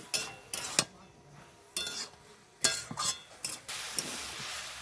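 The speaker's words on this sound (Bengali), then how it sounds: "এবার সব কটা মশলা দিয়ে আমি একটু ভালো করে নেড়ে চেড়ে কষে নেবো।" Vegetables fry with spices, cumin powder and sugar in a pan while a utensil stirs and scrapes in sharp, irregular strokes, with a soft sizzle underneath and occasional metallic clinks, close and without talk.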